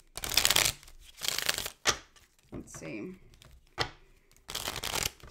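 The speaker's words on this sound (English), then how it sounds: "Let me get a good shuffle." A deck of tarot cards is shuffled in several loud, close riffling bursts with short pauses between them, and someone speaks briefly in the gaps.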